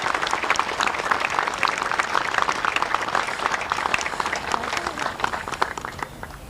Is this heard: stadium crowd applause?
yes